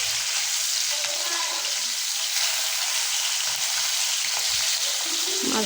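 Fish sizzling and spitting in plenty of hot oil in a home kitchen pan, a steady close crackle with occasional stirring clinks and no voices.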